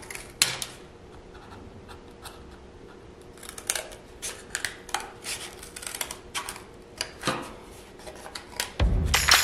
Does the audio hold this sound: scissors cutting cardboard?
yes